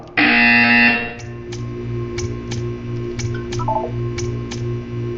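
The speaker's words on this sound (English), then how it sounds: "You will hear a buzzer. When you hear the buzzer, stare at the art." Buzzer in the video game Portal 2: a loud, harsh electronic buzz for about a second, then a faint, regular ticking pulse with soft electronic tones underneath.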